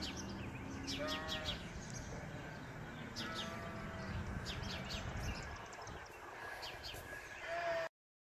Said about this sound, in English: Sheep over there are noisy